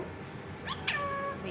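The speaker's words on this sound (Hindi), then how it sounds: "बाहर बिल्ली है, म्याऊं कर रही।" A cat meows outside a home, two short rising calls close together at moderate volume over quiet household background.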